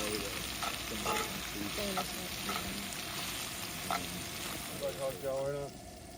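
Fatty bacon fries over a campfire with a continuous crackling sizzle and occasional spits, and voices chat in the background.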